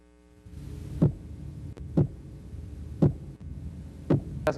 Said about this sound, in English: he'll hit the pole again.